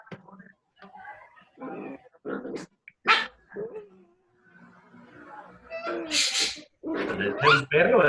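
A dog barks in a series of short, sharp yaps between stretches of talk on an online call, fairly close and loud against an otherwise quiet room.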